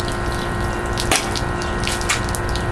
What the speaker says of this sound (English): And the water's leaking out.